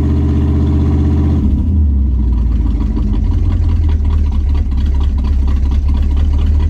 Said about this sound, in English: I'm gonna rev it. I'm giving it a little bit of RPMs.